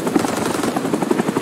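A helicopter with a damaged tail rotor in the video game Rising Storm 2 Vietnam thumps with rapid, steady blade chopping, a close, continuous pulsing beat.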